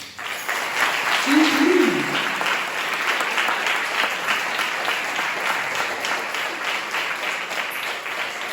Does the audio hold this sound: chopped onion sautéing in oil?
no